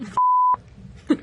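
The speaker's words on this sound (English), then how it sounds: "I'm gonna have a lot of beeps in this." A single steady censor beep tone cuts in abruptly, holds briefly, then stops, with bits of speech on either side.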